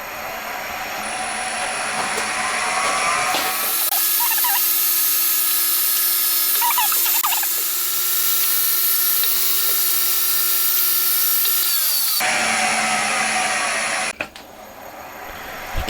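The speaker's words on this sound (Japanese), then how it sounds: "まずはセンタードリルからいきますか。" A machine center drill drilling metal runs loudly with a steady high whine and motor hum, pitch shifting as it cuts, then winds down.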